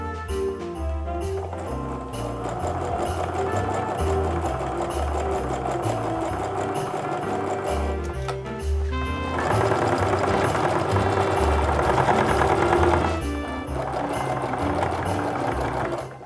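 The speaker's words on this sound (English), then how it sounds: "Now I'm going to continue sewing down the edge of this strip, just right along that edge line" A sewing machine stitches bias tape along the edge of a canvas apron in a long, steady run that grows louder and faster midway, then eases back, with no talk.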